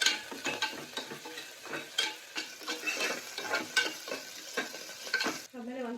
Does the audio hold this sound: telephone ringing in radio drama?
no